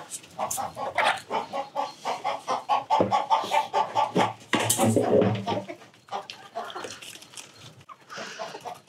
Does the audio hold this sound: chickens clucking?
yes